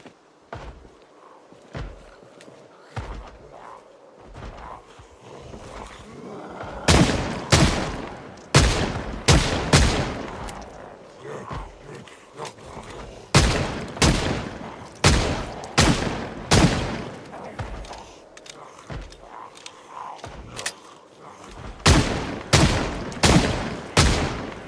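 A revolver fires in Project Zomboid: loud, sharp, close gunshots in quick clusters, roughly fifteen or more reports. The clusters are separated by short pauses, with softer clicks and thuds of handling and footsteps between them.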